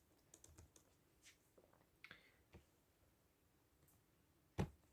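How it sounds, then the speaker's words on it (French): Quiet typing on a computer keyboard, scattered irregular clicks of keys with short pauses between them, close and faint, ending with one sharper, louder key strike. "ça balance parce que je suis en train de taper sur mon clavier"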